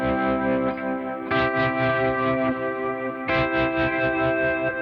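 Guitar playing closed position triads for worship music with a compact, tight tone, strummed chords swelling in a few pulses through a chorus and echo effects unit, sustained and alone without talk.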